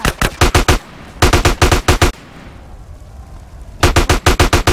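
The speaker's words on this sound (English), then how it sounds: "This is by far the best gun in the game." Automatic gunfire from a weapon in GTA San Andreas comes in loud, rapid bursts of evenly spaced shots. Two bursts open the stretch, a quiet lull follows, and a final burst closes it.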